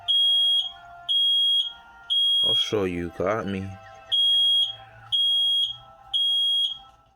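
Smoke alarms go off in a room during a game of Battle Tycoon, a loud, shrill electronic beep repeating in long regular pulses, with a voice speaking briefly between them.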